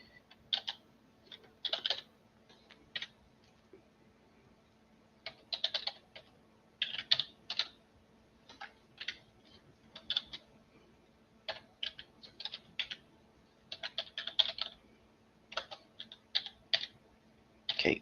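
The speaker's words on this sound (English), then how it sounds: "I'm gonna type it." Typing on a computer keyboard in quick, irregular bursts of crisp key clicks, close and fairly quiet, with short pauses between clusters over a low steady hum.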